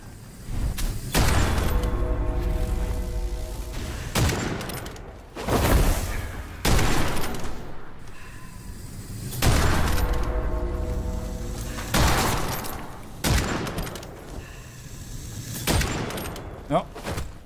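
Loud bursts of gunfire from the video game Witchfire come in several long volleys with brief gaps, booming and sharp, with a voice speaking briefly in German between them.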